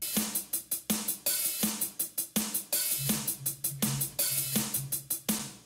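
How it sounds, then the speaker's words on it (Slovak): A programmed electronic drum pattern with punchy kicks and crisp hi-hats repeats in a tight, steady rhythm, joined partway through by a low tonal line. It plays alone, at a fairly quiet level. "všetky bubny spolu znejú takto"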